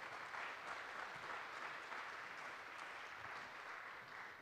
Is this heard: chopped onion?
no